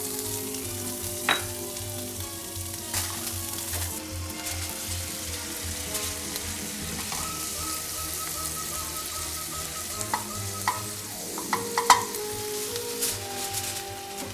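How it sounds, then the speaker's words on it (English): Salted asparagus sizzles steadily in a pan, a moderate continuous frying hiss with occasional faint clicks and a low hum beneath. "I'm gonna put a little bit of salt on the asparagus, and we'll let this cook for about 5 minutes"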